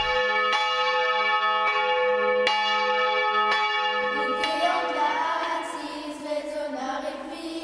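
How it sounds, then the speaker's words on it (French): Bells of small rural churches ring out for mass, a series of sharp, evenly spaced strikes with long resonant overtones, loud and close, then swelling into a denser overlapping peal toward the end with no voices. "les cloches des petites églises rurales annoncèrent la messe"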